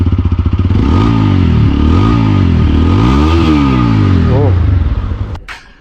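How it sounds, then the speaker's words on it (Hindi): TVS Apache RTR 160 4V motorcycle exhaust, loud and close, revved repeatedly with rising and falling engine pitch, several quick blips then a higher sweep before cutting off. "ये था फ्रेंड्स दोनों ही बाइकों की एग्जॉस्ट साउंड।"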